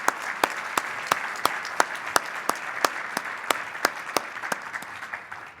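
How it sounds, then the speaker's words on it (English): Applause for a panel at an event on financing thermal energy, a moderate crowd clapping steadily with sharp individual claps standing out, tapering slightly near the end. "So could we have a round of applause for our amazing panel?"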